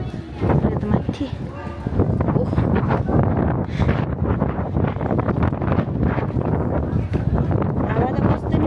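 Strong wind gusting on a hilltop on the way up to Chandragiri, a loud continuous rumble buffeting the microphone with some voices underneath.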